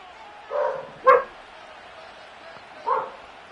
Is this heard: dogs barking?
yes